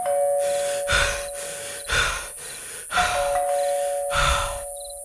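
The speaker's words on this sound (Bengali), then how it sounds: "এক নিঃশ্বাসে আধো অন্ধকার সিঁড়ি বেয়ে 3 তলায় এসেই কলিং বেলটা টিপে হাঁপায় অরূপ।" A doorbell on a third-floor landing is pressed in a horror-thriller audio story, ringing four evenly spaced times over a steady electronic tone, each chime close and clear, with heavy panting breaths between the rings.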